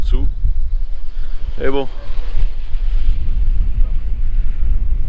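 Strong wind roars steadily over the microphone aboard a sailboat at sea under a lone genoa on an Atlantic crossing, a constant low rumble with someone speaking briefly over it.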